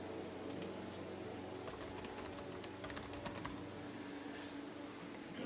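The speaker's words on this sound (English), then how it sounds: "Root password. I'm just going to type that in." Keys clicking on a computer keyboard while a root password is entered during a CentOS Linux install, quiet close taps in short irregular bursts over a faint background hum.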